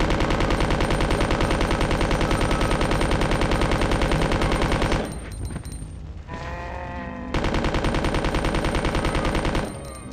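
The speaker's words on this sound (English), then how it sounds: "assault rifle basically with infinite ammo" An assault rifle fires in Resident Evil 2 (1998) in long, rapid automatic bursts, loud and close. The firing breaks off for a short lull of quieter game sounds, then resumes.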